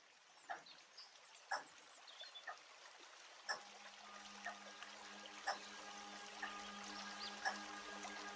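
A small stream trickles and bubbles softly from a played recording, with light irregular water drips and splashes, plus a faint steady hum joining partway through.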